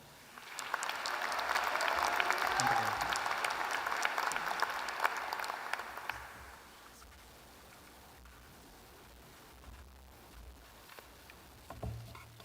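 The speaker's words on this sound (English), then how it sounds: "Please extend one last round of applause for our newest Lyle doctoral graduates." An audience at a university commencement applauds doctoral graduates, the clapping swelling for several seconds, then dropping to a faint hush with a few scattered noises.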